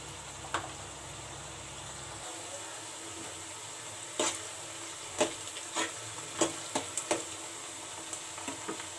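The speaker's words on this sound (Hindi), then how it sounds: "प्याज को बस सोटे ही करना है, ज्यादा भूनना नहीं है।" Onions are sautéed in a pan at home for brinjal bharta. A soft background sizzle carries on throughout, broken by occasional sharp scrapes and taps of a spatula against the pan, more frequent in the second half.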